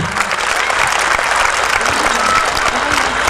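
Steady, dense applause from an audience at a kindergarten carnival in Kula, cheering children from Sunčica kindergarten, with clapping filling the whole stretch at an even, lively level.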